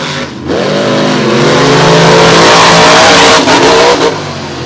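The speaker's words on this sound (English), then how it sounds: "What a top-end charge for Snyder, but did he take the victory? Very, very close race again" Race cars in a championship race of the Renegade MTT series at Franklin, PA roar loudly and close by, engines revving and climbing in pitch as they accelerate hard, sustained for several seconds with no voices.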